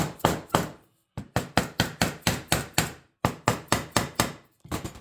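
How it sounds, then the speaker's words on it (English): A dead blow hammer taps a Husqvarna 394XP chainsaw engine case in quick rhythmic runs of sharp dull knocks, close by, with short pauses between bursts. "I'm going to take a dead blow."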